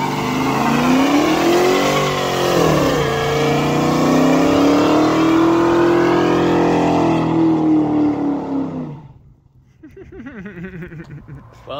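Motorized drift trike does a burnout at work, its engine revving loud and rising for about eight seconds, then cutting off abruptly before quieter mechanical rattling resumes.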